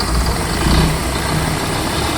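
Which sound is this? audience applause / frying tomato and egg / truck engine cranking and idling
truck engine cranking and idling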